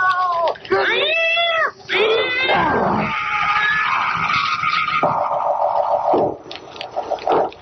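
Several drawn-out cat meows and yowls in an old radio horror drama, close and loud, overlapping with a voice calling and talking.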